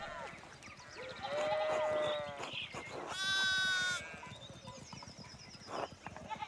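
Sheep in the medieval-village game Pentiment bleat several times, wavering cries that overlap and come close, over a soft ambient background with no talk.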